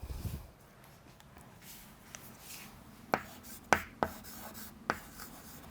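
Writing on a board during a physics lesson, several sharp taps and short strokes of the marker or chalk spaced out over a quiet room, close and fairly crisp.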